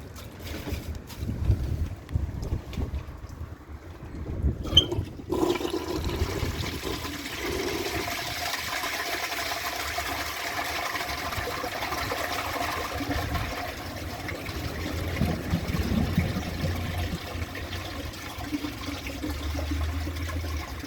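Water is poured into a toilet bowl during a flush test, making a rushing, splashing wash of noise for about twenty seconds. It opens with a few choppy bursts, then settles into steady turbulent pouring with no voices.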